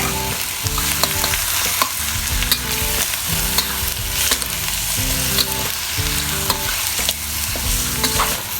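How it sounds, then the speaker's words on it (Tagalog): Pork belly and ribs sautéing for adobo: a loud, continuous sizzle close up, broken by rhythmic stirring scrapes at regular intervals, without any voices. "ginigisa ko po yung meat bago ko po timplahan ito ng pang-adobong timpla"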